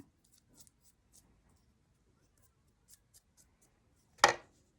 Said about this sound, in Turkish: Önce makasla alıyorum.